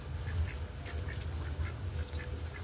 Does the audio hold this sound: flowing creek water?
no